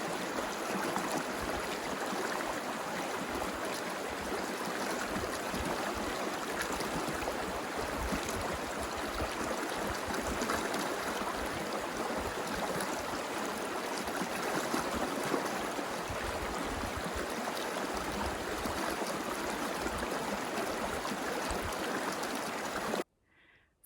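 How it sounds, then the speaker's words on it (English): A river on Vancouver Island rushes in a steady, broadband wash of flowing water, even and unbroken at moderate distance with no voices, cutting off abruptly at the end. "the sound of the river"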